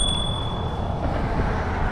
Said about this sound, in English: Oh yeah, my little bell.